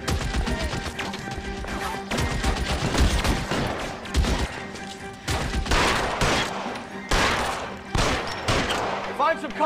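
Heavy gunfire in L.A. Noire, rapid volleys and single shots cracking close by in clustered bursts, with shouting voices mixed in among the shots.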